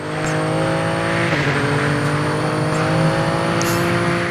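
A rear-wheel-drive car in the Super Street racing video game drives with a loud, steady engine drone and whine that holds throughout, with no voices.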